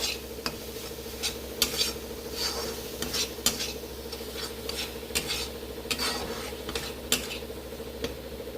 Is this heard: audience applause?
no